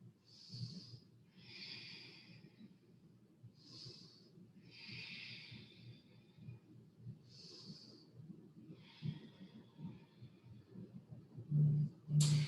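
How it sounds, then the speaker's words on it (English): Deep, slow breaths during a yoga session for the hips, low back and SI joint, several audible hissing inhales and exhales spaced a few seconds apart, close and fairly quiet, with no talking. "Full big breath."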